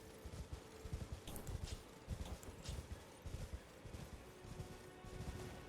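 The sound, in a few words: spectral steed horse galloping in Elden Ring video game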